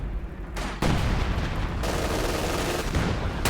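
A large anti-tank gun, a ZiS gun, fires a heavy shot in a real-time strategy war game, a sudden loud boom followed by a sustained rumbling roar of battle noise.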